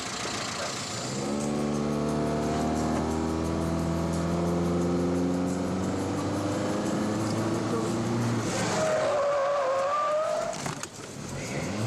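A car is driven backwards and then spun around in a quick getaway-driving stunt, with the engine revving hard and loud and tires squealing through most of the stretch before the noise breaks off abruptly near the end.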